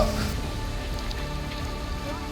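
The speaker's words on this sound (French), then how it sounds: "Une petite balade sous la pluie." Steady rain patters densely on surfaces outdoors during a hike around the volcanoes of Auvergne, a continuous close hiss without pause.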